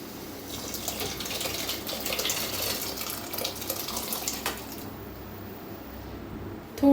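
Water poured slowly into chickpea masala for chole, a continuous gentle splashing stream that stops near the end; no talking.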